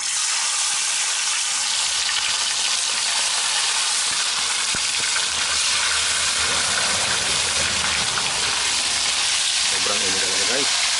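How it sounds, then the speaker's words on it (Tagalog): Snakehead fish (dalag) fries in hot oil with a loud, continuous close-up sizzle and crackle, and a few light clinks of stirring come near the end. "magprito na tayo."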